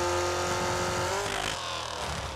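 Racing car engine in a video game eases off the throttle, a loud close whine that drops in pitch and settles into a rougher burble with no talk.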